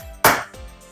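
A surface clamp is tightened onto a saw guide jig with one sharp, close clack, followed by a faint, softer knock.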